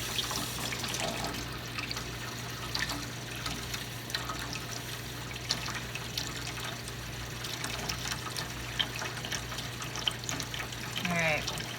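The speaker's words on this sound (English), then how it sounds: "I am going to run hot water through it one more time just to get all that cleaner or the vinegar out." Hot water running through the tubing of an electric milking machine, a steady trickling and splashing flow with a constant low hum underneath, close and moderately loud, with scattered faint clinks.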